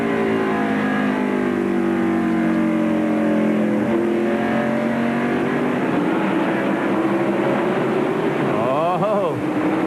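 Stock cars of the 1996 NASCAR Winston Cup race at North Wilkesboro Speedway scream past, engines whining and rising in pitch as they sweep by, loud and continuous with a commentator talking over them.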